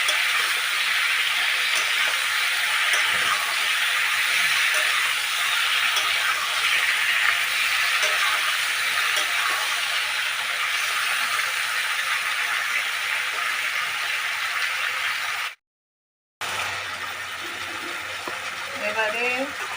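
Vegetables fry in hot oil for a katla fish curry, giving a steady, dense sizzling hiss that runs nearly unbroken, with a brief dropout near the end and a voice faintly under it.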